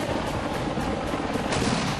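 A Prachand attack helicopter makes a loud, dense, continuous roar with a rough, rumbling texture and no pauses, heard up close with no talk.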